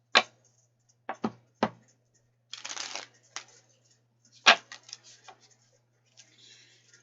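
A deck of tarot cards is shuffled by hand, giving sparse, crisp riffling snaps and flutters. The clusters are separated by brief quiet gaps, close and fairly soft, with no talking.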